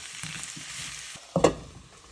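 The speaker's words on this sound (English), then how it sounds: "So I'm just gonna stir it up a little bit" Lemon pepper taco filling frying in a pan, a steady sizzle broken by one loud scraping stir near the end, close and without talk.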